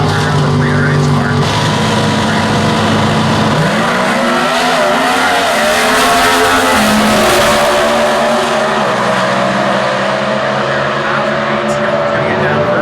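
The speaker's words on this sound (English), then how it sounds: "This is a 135 cubic inch engine that is turbocharged." A turbocharged 135-cubic-inch Comp Eliminator drag car roars hard at the 2014 US Nationals in Indy, sweeping up in pitch as it accelerates down the strip. The sound is loud and continuous, with crowd and track noise mixed in.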